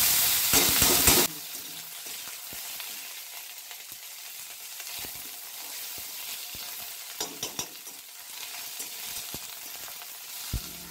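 Drained ash gourd peels hit a pan of hot oil with black cumin seeds, a loud sizzling burst that quickly settles into a quieter, steady crackle broken by occasional scrapes and taps of stirring.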